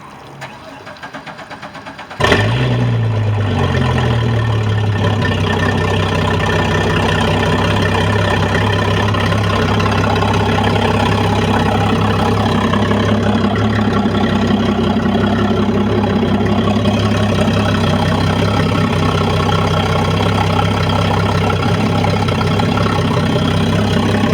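A Sea Ray boat engine, taking on water, cranks and catches about two seconds in, then settles into a steady, loud, rumbling idle that carries on without a break to the end.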